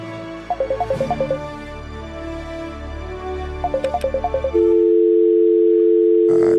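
Two short bursts of telephone keypad beeps are followed by a steady, loud dial tone on a call-in radio show after a caller hangs up; no one speaks.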